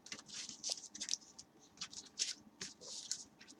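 A deck of Yu-Gi-Oh trading cards, a Lightsworn build, is shuffled by hand up close in quick repeated bursts of soft riffling and patter, with no voices.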